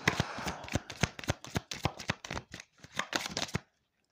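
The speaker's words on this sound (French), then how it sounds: "un petit peu plus de cartes, déjà, c'est plus agréable à mélanger" Deck of oracle cards being shuffled by hand, with quick rapid riffles and slaps in bursts, close and crisp, ending in a short silence with no talk.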